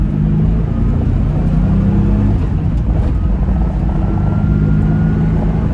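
A Land Rover Discovery I accelerates to merge, its engine a loud, continuous low rumble with road and wind roar heard from inside the cabin, steady throughout.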